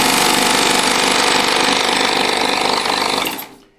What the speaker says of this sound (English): Press the button that says push to thread needles right here. Push it, the motor will come on.